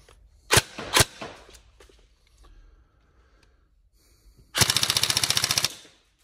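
A Tokyo Marui M4 Next Gen Recoil Shock airsoft electric gun on a 7.4V battery fires two loud single shots, then after a pause a sharp, rapid full-auto burst of about a second, close and clear.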